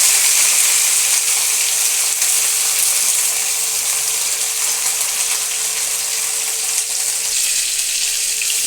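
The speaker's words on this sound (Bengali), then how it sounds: "বাঁধাকপিটা দিয়ে দিচ্ছি। এটাও আস্তে আস্তে হালকা ভেজে নেব।" Cabbage fries lightly in a hot pan with a loud, dense, continuous sizzle that holds steady throughout, close and unbroken by any voice.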